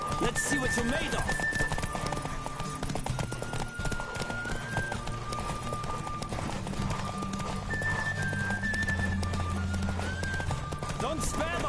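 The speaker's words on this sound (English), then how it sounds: "Don't spare the horse!" Horse galloping in The Witcher 3: Wild Hunt, with a steady clip-clop of hooves running under game music and a near-constant voice calling out, plus an occasional whinny.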